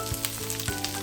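Onions, green chilies and curry leaves sizzle hard in hot oil while being sautéed for poha upma, a steady close frying hiss with a couple of sharper stirring crackles over about a second, no voices.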